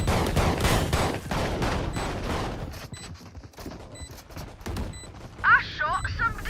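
Video game gunshots in a tactical shooter round after the spike is planted, several sharp bursts early on mixed with a voice talking, followed by quieter stretches and a few electronic chirps near the end.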